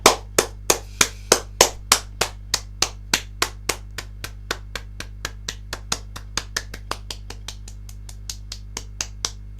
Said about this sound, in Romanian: Să-l aplaudăm!